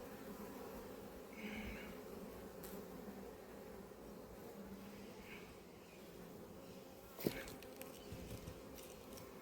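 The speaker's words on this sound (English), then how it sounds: "it's a lot more pleasant dealing with calm bees than it is angsty ones" Calm honeybees at an apiary hive, a soft steady buzzing drone that stays low and even throughout, with one brief knock partway through.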